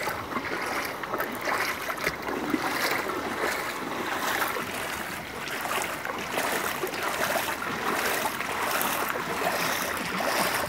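A rushing stream of rainwater after heavy seasonal rain pours in a loud, steady, broadband wash that never lets up.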